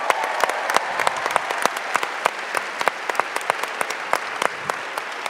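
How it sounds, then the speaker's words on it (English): Audience applause at a conference panel, a moderate crowd of clapping hands with individual sharp claps standing out in an even, continuous patter. "So please give them a round of applause."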